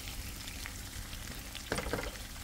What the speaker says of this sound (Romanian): Cârnații mei s-au prăjit împreună cu sălinuța,